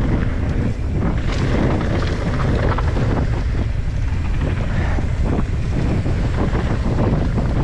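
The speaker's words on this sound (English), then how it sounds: "the wind is just so serious right now" Heavy wind batters the microphone on an exposed Bay Area mountain bike trail, a loud, steady, roaring low-frequency rumble that stays constant throughout with slight fluctuations in force.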